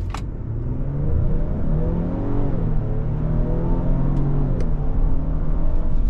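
A 2025 Lincoln Aviator Reserve AWD SUV with its EcoBoost engine accelerates hard, a steady loud engine drone rising and shifting in pitch through gear changes, with road rumble and a couple of faint clicks.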